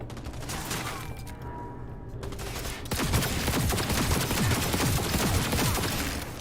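Rapid rifle gunfire in the video game Cyberpunk, a dense loud fusillade of shots that intensifies after the first three seconds and continues without pause.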